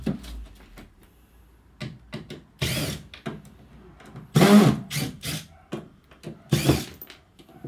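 A power drill unscrews screws from a bathroom wall during a rip-out, heard as several short whirring bursts separated by quiet pauses and small handling clatters, close by with no talk.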